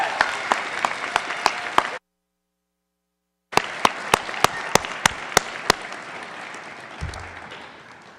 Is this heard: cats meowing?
no